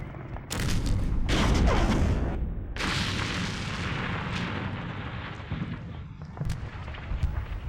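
Korean War artillery and gunfire against a column of Soviet-made T-34 tanks near Osan, heard as heavy, continuous booming barrages with rumbling blasts that overlap and then fade into a dense roar of distant firing.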